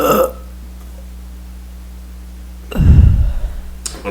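A single loud, close burp, deep and rough, bursts out after a near-silent pause and fades with a short tail, with a faint sharp noise just after.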